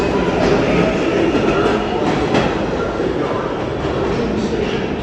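A 7 subway train pulls into the Times Square–42nd Street station, its loud, steady rumble and rattle of wheels filling the platform for the whole stretch without pause.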